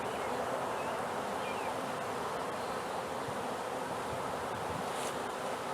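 Honeybees from a swarm catch hum steadily as a dense, continuous buzz while fanning near comb being handled, with a faint outdoor wash behind them and no talk.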